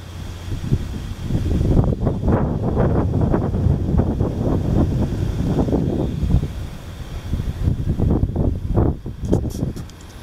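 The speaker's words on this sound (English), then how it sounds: "The wind." Steady outdoor wind on a hot day, a broad continuous roar with gusty swells that rise and fall across the whole stretch, fairly loud and close to the microphone, with no voices.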